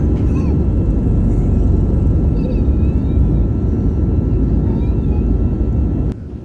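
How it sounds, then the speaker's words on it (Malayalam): A passenger airliner accelerates down the runway to take off from Abu Dhabi, its engines making a loud, steady, dense roar inside the cabin that holds level before dropping slightly at the end. "നമ്മുടെ ഫ്ലൈറ്റ് ഇതാ സ്പീഡ് നല്ലോണം കൂടിക്കൂടി വന്ന് ഏതാനും നിമിഷങ്ങൾക്കൊക്കെ ഇതാ പറന്ന് പൊങ്ങാൻ"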